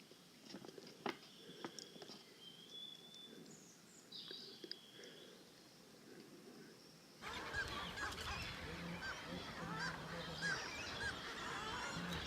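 Puffins on the Farne Islands, heard from a sailing yacht: low, groaning moans repeat near and far over wind and wave noise, with a louder, busier stretch of calls and rushing air in the second half.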